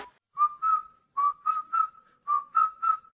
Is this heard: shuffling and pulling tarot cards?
no